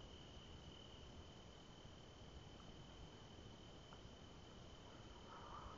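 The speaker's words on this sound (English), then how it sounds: "listening to the crickets" Steady, dense cricket chirping fills the background without pause, a continuous high trill with no voices, like a quiet night outdoors.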